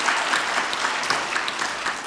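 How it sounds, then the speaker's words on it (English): Brief burst of steady audience clapping at an audit conference panel, dense and even, filling the moment without talk. "Give him a big applause."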